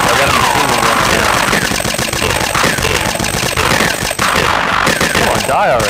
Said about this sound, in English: I got a machine gun here.